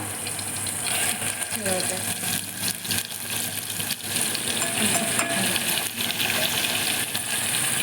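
Oil sizzles steadily as it heats in a kadhai for spicy brinjal curry, with occasional clinks and stirring noises; no voice is heard.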